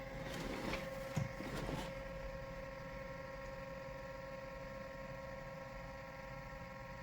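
A Gembird GEMMA 3D printer running its first print, a steady mechanical whir with a constant tonal hum and a few brief clicks early on, close and even throughout.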